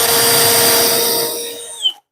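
A cordless power drill, about 15 years old, whirs loudly and steadily at close range with no talk over it, then spins down and stops abruptly.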